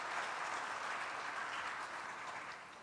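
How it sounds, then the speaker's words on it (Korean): An audience at a church teachers' seminar applauds the teachers present, a steady even patter of many hands clapping in a hall that fades slightly over three seconds, faint in level. "우리 이 자리에 참석하신 선생님들을 위해서 박수 한번 보내주시면 좋겠습니다."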